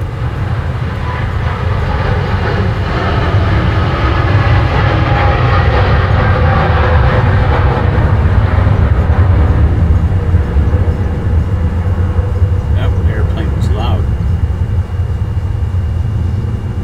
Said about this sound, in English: the airplanes taking off around here are louder when it's cloudy